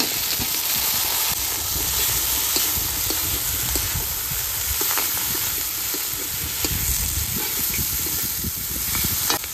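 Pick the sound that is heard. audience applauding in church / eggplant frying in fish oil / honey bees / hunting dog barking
eggplant frying in fish oil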